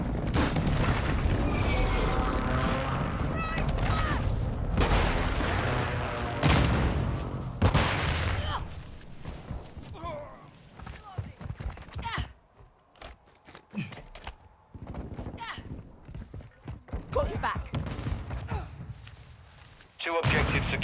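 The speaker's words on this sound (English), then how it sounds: "Friendly airstrike in the AO." Rumbling explosions from a friendly airstrike in a Call of Duty Modern Warfare II multiplayer match boom heavily early on, then give way to scattered gunfire, footsteps and sharper distant bangs, with a radio voice calling out.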